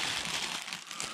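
A plastic bag crinkles steadily for about a second as a Cadence CS10 spinning reel is taken out, close and fairly loud, with no voices.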